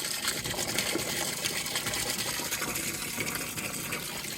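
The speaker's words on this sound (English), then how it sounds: "this is what we're getting from the creek using our water pump" Water pumped up from a creek gushes steadily and fairly loud without pause, a continuous rushing, splashing flow with the pump's hum mixed in and no talking.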